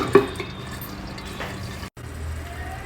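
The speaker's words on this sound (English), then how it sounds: "let it boil for a couple of minutes more till it thickens" Thick tomato gojju mixture bubbling in a pan, with soft steady popping and a few sharper splatters, close up and continuous, briefly cut by a short gap.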